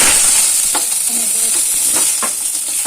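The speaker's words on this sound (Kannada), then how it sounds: "ಈರುಳ್ಳಿ ಬೆಳ್ಳುಳ್ಳಿ ಮತ್ತು ಶುಂಠಿ ಏನಿದೆ ಅದನ್ನು ಫ್ರೈ ಮಾಡ್ಕೊತೀನಿ" Onion, garlic and ginger fry in hot oil with a loud, continuous close sizzle and hiss, while a spoon scrapes and taps the pan every half second or so as it stirs.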